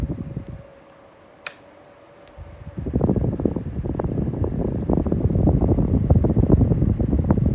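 Electric fan switched to its highest speed setting: after a quiet stretch and a click, a strong, steady whooshing airflow starts up and holds loud and constant to the end.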